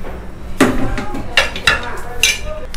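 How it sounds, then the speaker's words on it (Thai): Spoon scrapes and clinks against a pan and plate as stir-fried mushrooms in oyster sauce are scooped out, a few close metallic knocks over soft background noise. "ตักใส่จานกันเลยนะครับ"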